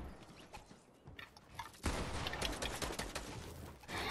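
Gunshots from the video game Fortnite crack out as a quiet rapid burst of several shots, followed by a louder, denser stretch of game noise and firing.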